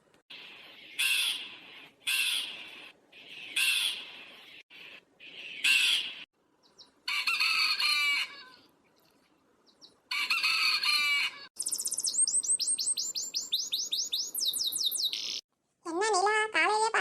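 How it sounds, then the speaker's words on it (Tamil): A rooster crows again and again in a village at dawn, each long call loud and close, with sharp cawing and other bird calls between the crows and scattered faint voices. "என்ன இன்னும் கோழியை கூவல"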